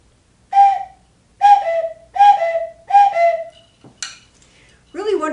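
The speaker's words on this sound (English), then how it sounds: "It's a slide whistle." A party-store slide whistle plays four short hooting notes, each sliding downward, then a quick upward swoop and a brief last toot, loud and close with no talking.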